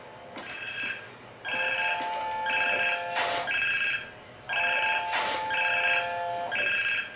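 A telephone rings in Far Cry 3 with a loud, close electronic bell trill in repeated bursts separated by short gaps, with a couple of sharp bangs of gunfire or impacts among the rings.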